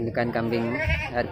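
Goats, including red-headed Jawa goats, bleat with wavering cries at a busy livestock market, mixed with a voice talking over them.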